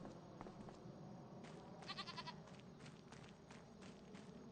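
Goats in Farming Simulator 25 on a Montana farm, faint bleats from a herd rising briefly over a steady ambient hum, distant and soft.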